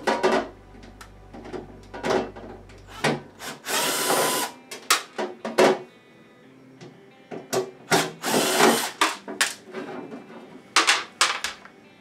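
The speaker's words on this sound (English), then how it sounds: "You can use a regular screwdriver, however a screw gun definitely works a lot easier." A screw gun pulls screws from an incubator's panels in two loud whirring bursts. Clunks, scrapes and handling noises surround them at close range.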